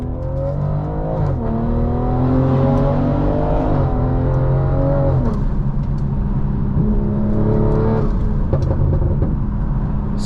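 A stage 2 BMW M340i engine heard from inside while driving, a loud continuous drone rising and falling through throttle changes and gear shifts, alone with no talking.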